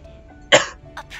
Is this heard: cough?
yes